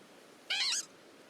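Cry of Glameow, the cat Pokémon, in the video game Pokémon Legends: Arceus: one short, bright, rising-and-falling meow, clear and close against near silence, with no talking.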